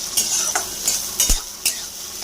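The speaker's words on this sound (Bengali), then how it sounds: "এবার দিয়ে দেব পেঁয়াজ, কাঁচা লঙ্কা দিয়ে দিলাম, লঙ্কা, পেঁয়াজ" Garlic, onion and green chilli fry in hot oil in a pan, a loud close sizzle broken by several scraping stirs of a spatula, with no one speaking.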